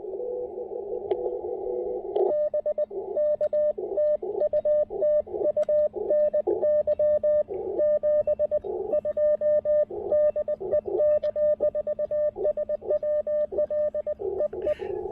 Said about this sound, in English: I'm doing some Morse code.